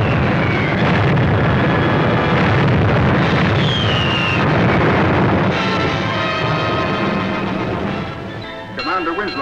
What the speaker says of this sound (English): Those torpedoes sure put that cruiser out of action.